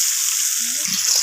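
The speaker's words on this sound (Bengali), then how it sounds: "তো লবণ আর হলুদ দিয়ে আলুটাকে আমি লালচে করে ভেজে নেব।" Potatoes seasoned with salt and turmeric frying in hot oil, a steady bright sizzle throughout with a faint stir or clink near the end, no talking.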